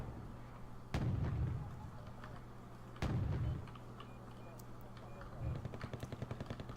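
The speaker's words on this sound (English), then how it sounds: "Oh, BTR is getting shot." Gunfire striking a BTR armored vehicle in a military video game, heard as two heavy booming impacts about two seconds apart followed by a rapid burst of pops, over a steady low engine drone.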